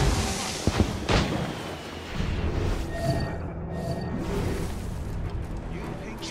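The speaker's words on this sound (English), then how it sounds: "Chevalier is using mortars to stop Shay!" Mortar fire in Assassin's Creed Rogue, booming blasts rolling over dense battle noise, with a couple of sharp near impacts early on and steady rumbling chaos throughout.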